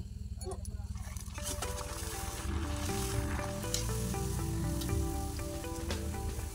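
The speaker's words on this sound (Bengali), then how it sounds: "চলো আমি সব লুচিগুলো ছেঁকে নিই" Luchi puffed flatbreads fry in hot oil with a steady bubbling sizzle, while a voice talks over it and a tonal sound hums underneath.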